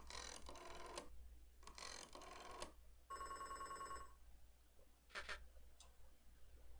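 Old-fashioned telephone bell rings in the cozy adventure game Beacon Pines, sounding in several short bursts with pauses between, clear and fairly close, over a low steady background hum with no talking.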